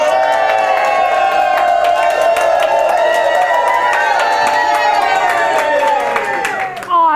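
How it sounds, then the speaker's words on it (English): A room full of workshop attendees cheers and yells together in a loud, sustained crowd roar with whoops and scattered shouts, holding steady for several seconds before dropping off at the end. "You might want to stand up and yell."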